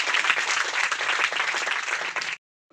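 A congregation breaks into steady, dense applause during a church testimony gathering, many hands clapping together at moderate volume for a couple of seconds before cutting off abruptly.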